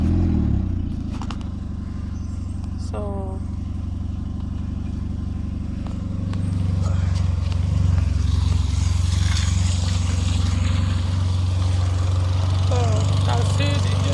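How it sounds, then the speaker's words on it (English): A car engine, freshly repaired after a wrecked head gasket, cranks and settles into a steady low idle that rises slightly midway, running alone with a few brief voices. "So so let me start the vehicle."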